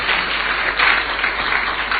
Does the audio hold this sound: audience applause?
yes